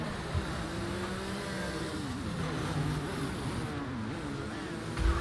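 An F1 car in the game F1 22 drones steadily while entering the pits at Belgium, its engine note wavering as it slows, alone and fairly close.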